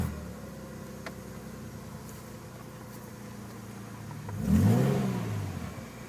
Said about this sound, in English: I'll just rev it up so you can see.